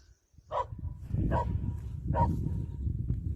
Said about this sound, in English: There's a dog having fun.